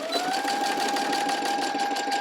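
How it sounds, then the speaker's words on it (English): A sewing machine runs a straight stitch along a tiered skirt seam, a steady, close, fast motor whir with rapid even needle chatter throughout, no talking. "we're going to take this to our sewing machine so that we can sew that together"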